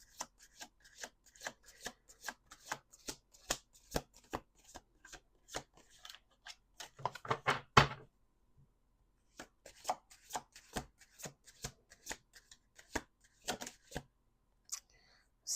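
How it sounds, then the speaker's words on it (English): Playing cards are riffled and bridged in a series of crisp, rhythmic snaps, close up, with one longer riffle burst midway. "2 more shuffles."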